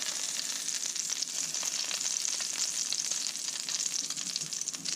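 Delmonico steak fat sears in a hot pan with a steady, close, crackling sizzle that holds evenly throughout.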